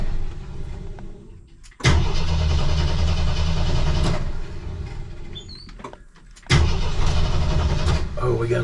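A 1984 Jeep CJ7 barn find cranks repeatedly without catching: two long, loud bursts of starter-motor grinding separated by a short pause, with steady low churning and no speech.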